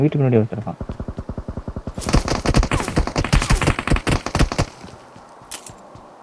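Automatic gunfire in the mobile battle game BGMI (Battlegrounds Mobile India), with dense rapid bursts of shots crackling loudly for a couple of seconds after a voice and a rhythmic pattering, then fading out.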